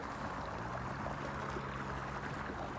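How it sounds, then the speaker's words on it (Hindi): Irrigation water flows fast through a farm field at night, a faint, steady rushing wash that continues evenly with no talk. "काफ़ी स्पीड में पानी चल रहा है"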